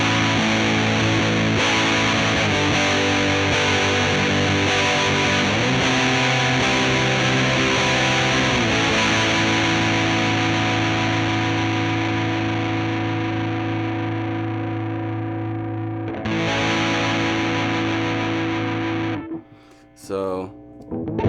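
A guitar through an Electro-Harmonix Green Russian Big Muff distortion pedal, distortion set halfway, plays sustained chords and riffs, loud and continuous, with a brief pause and choppy notes near the end.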